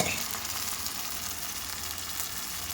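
Water hits masala frying in a pan, giving a loud, steady, close sizzle that continues unbroken.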